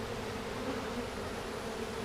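Honey bees buzzing around an open hive with emergency queen cells during a hive combine, a steady, close, low drone of many wings that holds level with no speech.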